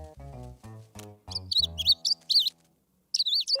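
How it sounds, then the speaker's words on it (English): Cartoon baby bird giving high, bright chirps in short bursts, alternating with a few lower toy-like tones and a brief pause, near and clear with no talk. "I have to take care of the baby bird."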